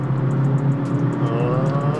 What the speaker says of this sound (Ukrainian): Коли вмикаєш режим спорт, то в G20 з динаміки починає лунати ну, типу, звук двигуна, як моє BMW M3.